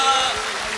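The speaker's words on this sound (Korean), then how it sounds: "오늘의 제왕이신 우리 송혜 선배님 한 번 더 큰 축하의 박수를 보내주시기 바랍니다" Brief burst of audience applause congratulating the winner at a televised national singing contest's 30th-anniversary special, a dense broadband clatter of many hands that sits steady and loud for under a second.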